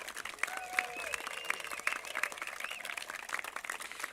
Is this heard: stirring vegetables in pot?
no